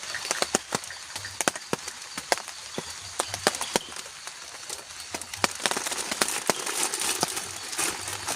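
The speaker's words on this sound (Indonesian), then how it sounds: "Pas banget ini teman-teman, pas hujan gerimis" Light drizzle falls at a campsite at night. Soft, scattered drops tick and tap in an irregular pattern over a quiet, faint background hiss.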